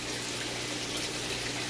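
Steady gushing water from a hose pours into a freshwater aquarium tank, a continuous close rushing and splashing with no voices.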